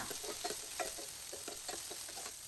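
Spices and dal frying in a little oil for an avarekalu bean sambar, giving a steady broadband sizzle with light scraping stir strokes at a moderate, even level.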